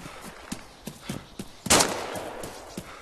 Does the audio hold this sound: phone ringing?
no